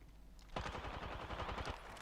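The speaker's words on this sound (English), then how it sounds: "So you can hear people shooting." Rapid bursts of automatic gunfire from other players in the battle-royale shooter Apex Legends, a dense volley of quick shots that starts abruptly and runs for over a second before easing off.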